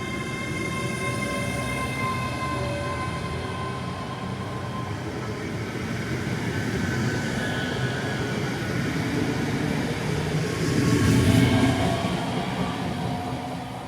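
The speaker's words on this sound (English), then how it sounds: "I do love the Class 385 electric multi-units, to be honest. These are really nice trains." A ScotRail Class 385 electric multiple unit train runs along the track, a continuous loud rumble with steady motor whine and a swelling of wheel and rail noise near the end.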